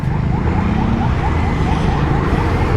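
An ambulance siren wails loudly and steadily with a repeating rise and fall, heard over traffic and road noise.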